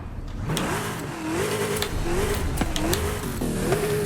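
Mercedes 500 E V8 engine revving in Forza Horizon 5, a steady mid-pitched engine drone with rising and falling revs throughout, loud and close with no talking.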